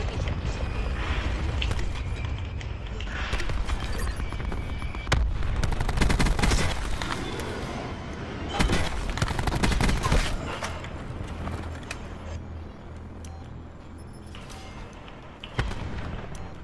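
Daemon 3XB burst rifle firing in Black Ops 4, with repeated bursts of sharp gunfire that come in clustered volleys over a busy game soundscape and then thin out toward the end.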